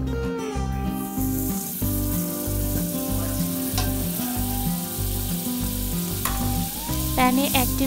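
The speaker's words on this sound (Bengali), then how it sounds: "প্যানে 1 টেবিল চামচ বাটার দিয়ে তার মধ্যে 1 টেবিল চামচ ময়দা দিয়ে দিলাম।" Butter and flour cook in a pan as the base of a cheese sauce, sizzling steadily beneath louder background music.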